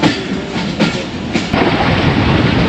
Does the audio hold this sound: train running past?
yes